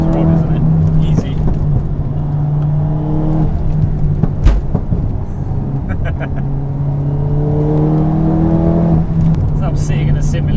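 A 600 BHP VW Golf R engine revving hard while driving, rising and falling tones as it pulls through gears with a brief sharp crackle midway, loud and close from inside the car with talk over it.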